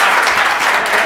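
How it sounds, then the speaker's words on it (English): An audience at a community meeting claps for a panel, dense steady applause filling the room throughout the short moment. "how about a round of applause for the panel?"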